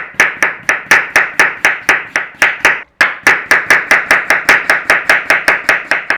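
Kitchen knife rapidly slicing potatoes on a board, a steady run of crisp, loud, close chops at an even quick rhythm, with one brief pause partway through and no talking.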